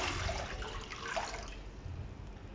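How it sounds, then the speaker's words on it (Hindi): Water poured into a cooking pot while making chicken vegetable macaroni, a steady splashing, gurgling stream that runs throughout at moderate volume, with no voices. "अब एक पतीले में 2 लीटर पानी डाल देंगे"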